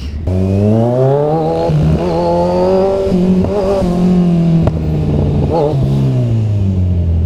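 Kawasaki Z1000 motorcycle engine running steadily while riding through city traffic, a loud continuous drone with rising and falling revs and brief throttle changes, close to the microphone, with no talking.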